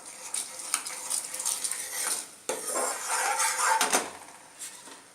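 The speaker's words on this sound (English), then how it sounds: "Keep stirring." A spoon stirring boiling sugar syrup with cardamom powder and ghee in a pan for adhirasam, with repeated clinks and scrapes of metal against the pan over a soft bubbling sizzle, close and moderately loud, one sharp knock partway.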